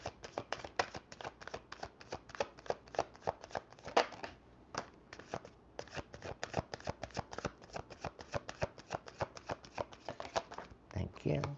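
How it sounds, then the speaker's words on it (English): Tarot cards are shuffled continuously in quick, crisp riffling bursts, close and fairly loud, with a brief pause partway through. "I don't want to be sitting here shuffling all night."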